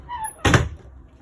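A door inside an AutoTrail Grande Frontier motorhome is shut once, a single close, solid thud with a brief rattle, followed by quiet.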